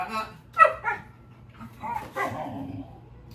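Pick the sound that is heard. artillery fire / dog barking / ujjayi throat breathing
dog barking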